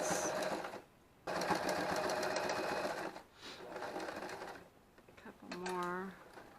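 A sewing machine runs close by in several steady bursts as it stitches a quilt corner seam, pausing briefly between runs, and a voice speaks over part of it.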